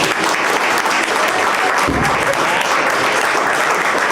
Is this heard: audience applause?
yes